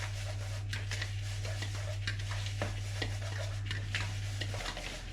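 A pecorino cheese, breadcrumb and parsley mixture is stirred in a bowl, making soft rhythmic scraping and light clinking strokes over a steady low hum.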